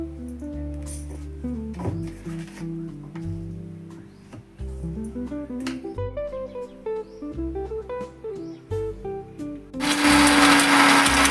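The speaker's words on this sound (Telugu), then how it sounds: "ఇవన్నీ కోర్స్గా మిక్సీ పట్టుకోవాలి." A mixer grinder coarsely grinds chopped green chillies for a homemade spicy pickle. A loud, steady whirring roar bursts in near the end over music that plays throughout.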